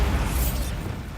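A Bombarda spell explosion in Hogwarts Legacy, a loud, close, low booming burst that rumbles for about a second before fading.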